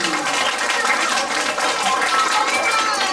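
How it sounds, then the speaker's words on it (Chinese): An audience at a children's science magic show bursts into applause, a dense, steady wash of many hands clapping that holds for several seconds. "掌声鼓励"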